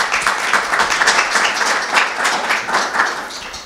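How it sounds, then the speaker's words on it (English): An audience at a food recovery summit breakout session claps steadily, a dense, fairly close patter of many hands lasting a few seconds with no talk over it. "So let's give John a nice round of applause."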